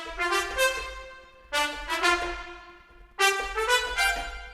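Three separate runs of bright trumpet notes, each starting with a sharp attack and ringing on, played with one uniform articulation and no talking.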